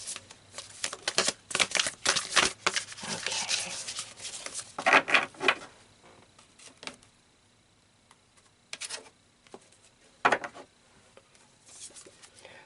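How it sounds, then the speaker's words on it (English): Tarot cards shuffled by hand in dense rustling, flicking bursts through the first half, then a few sparser shuffles and a final short flurry, close and alone with no voice. "let's pull some tarot cards to add to this message here"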